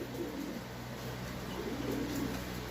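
Soft, low cooing of pigeons in a loft repeats faintly over a quiet background hum, with no talking.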